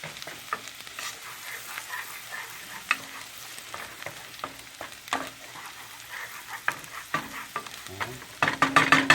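Garlic sizzling in oil in a pan, being swished around; a soft continuous fry under repeated scraping and stirring clicks, growing louder and busier near the end, up close with no talk.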